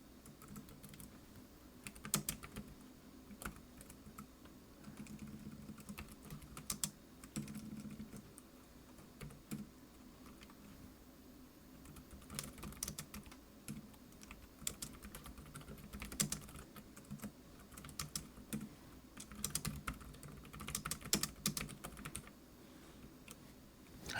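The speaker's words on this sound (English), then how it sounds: "I don't know why I'm typing." Rapid typing on a computer keyboard: quiet, close, irregular bursts of clicking keystrokes that pause briefly and resume, continuing steadily throughout with no talking.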